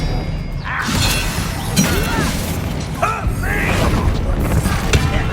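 An Expelliarmus spell is cast in the video game Hogwarts Legacy, a sharp magical crack and shattering burst over a dense, loud bed of game music and ambience, with brief voice lines from characters.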